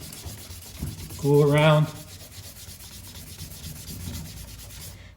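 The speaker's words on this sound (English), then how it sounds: "You scuff it all up." A leather steering wheel is scuffed by hand with an abrasive pad, a soft close rubbing with one louder, rasping stroke in the middle, while a voice talks briefly.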